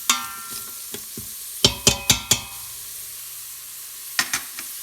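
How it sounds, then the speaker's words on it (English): Onions and celery saute in an Instant Pot, giving a faint sizzle under a run of sharp scraping and clacking stirring strokes, then a quieter stretch and a few more stirs near the end. "I want to stir these. And just let these saute."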